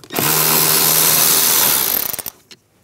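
A power driver fitted with a 5.5mm socket spins out the screws holding an HVAC blend door actuator on a 1999-2006 Chevrolet Silverado 1500, a loud steady whir lasting about two seconds that stutters to a stop, with no talking.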